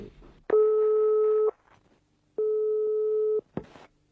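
Two long steady tones, about a second each with a pause between, ring on a 1960s Belgian telephone line as a call waits to be answered. They are clear and close, with faint room sounds between the tones.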